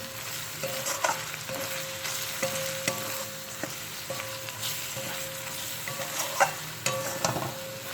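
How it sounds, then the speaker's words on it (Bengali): Ground cumin, coriander and chili powder sautéed together in a pan for a Bengali jackfruit and prawn curry: a soft sizzle beneath repeated scraping and clinking strokes of a spatula, irregular and close, without speech. "এখন আমি সব মশলাগুলো একসঙ্গে ভালো করে কষিয়ে নেব।"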